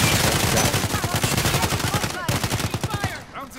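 Rapid bursts of automatic gunfire in Call of Duty: Modern Warfare, loud and close with dense, repeated shots throughout, briefly pausing near the end.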